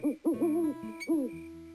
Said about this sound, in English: The soft cry of the owl.